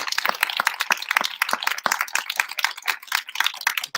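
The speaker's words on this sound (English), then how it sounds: "Well, they're clapping" An audience clapping, a brisk patter of sharp, separate hand claps from a small group, close and fairly loud, continuing unevenly without voices.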